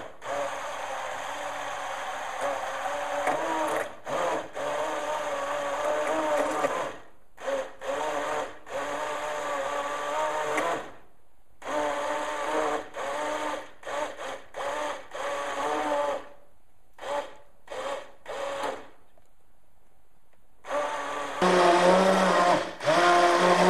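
A blender purées lentil soup in repeated bursts, its motor whining steadily for stretches and then cutting out, with short pauses between pulses and a final louder run.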